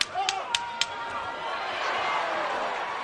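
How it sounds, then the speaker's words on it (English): Boxing arena crowd at a heavyweight bout between Evander Holyfield and Francois Botha roars and swells after a right hand lands, with a few sharp claps early on, then a broad sustained cheer building loudly to the end. "Crowd reacting to a right hand by Holyfield."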